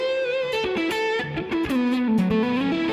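Electric guitar on its neck pickup played through a Quad Cortex amp preset, with a clean, warm sustained melodic line and note bends heard alone at full volume.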